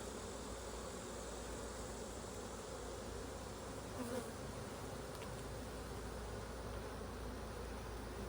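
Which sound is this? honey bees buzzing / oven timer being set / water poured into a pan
honey bees buzzing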